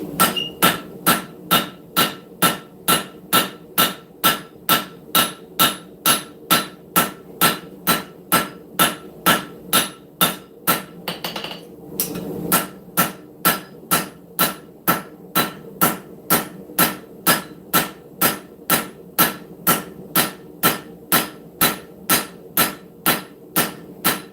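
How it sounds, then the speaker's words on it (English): A hammer forges a camp knife blade with steady, evenly spaced strikes, about two per second. The blows are loud and ringing, with one brief pause midway, and nobody speaks. "It's important whenever you're doing this step that you hammer from both sides, get it nice and even on there."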